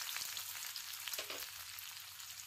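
Onions with cumin seeds and green chillies frying in a pan, a steady soft sizzle with faint crackles throughout and no talking.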